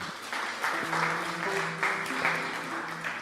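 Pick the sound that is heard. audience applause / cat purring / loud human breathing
audience applause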